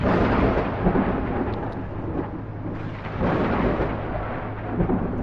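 Rolling thunder rumbles low and heavy through a video game storm over mountains, a continuous loud roar that swells and fades in waves, with no speech.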